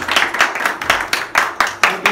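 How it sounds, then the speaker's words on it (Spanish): Clapping for Dalí during a documentary gathering: a small group's handclaps in uneven bursts, close and fairly loud, with brief gaps and no talk. "Un aplauso"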